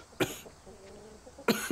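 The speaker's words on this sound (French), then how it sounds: "Mais tu tousses depuis des jours." A person coughing from a lingering illness of several days, in a village home: two sharp, close coughs about a second apart, with quiet room tone between.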